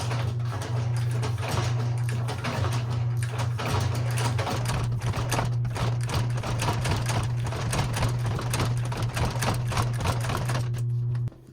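A sewing machine runs a continuous rapid stitching clatter, close and steady, as it sews thread around a Gucci shoe, stopping abruptly at the end.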